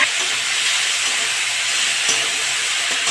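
Tomato and ginger go into hot mustard oil with cumin and sizzle in a loud, steady, close hiss that lasts the whole stretch with no pauses or talking.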